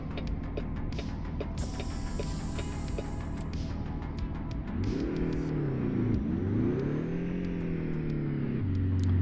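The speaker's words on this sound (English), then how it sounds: "I was a little weird about the motor, just the sound that the engine makes" A heavy 1970s Fleetstar 2070A truck engine in a video game idles and rumbles, then revs up and down with a rising and falling drone, close and continuous.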